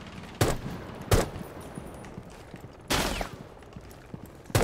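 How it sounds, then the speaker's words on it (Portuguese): Gunfire in Rainbow Six Siege: several sharp, loud bursts of shots at irregular intervals, one longer volley near the end, over quiet game ambience with no talking. "Eu não tô vendo quem tá dando esses tiros"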